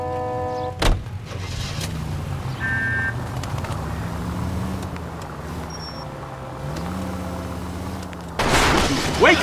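A car in L.A. Noire drives along with a low engine hum that shifts in pitch, a sharp bang near the start, brief beeps, and a louder burst of noise at the end.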